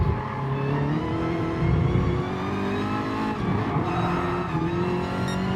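A race car engine in a sim racing league drones loudly and continuously as it labors up a hill, its pitch rising and wavering with gear and throttle changes, with no talk over it.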